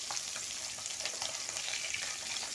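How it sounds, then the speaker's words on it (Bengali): Small puti fish fry in hot mustard oil in a wok, giving a dense, steady, crackling sizzle that runs alone and unbroken throughout. "এই পুঁটি মাছগুলো ভেজে নেব"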